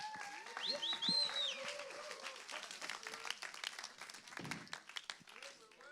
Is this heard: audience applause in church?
yes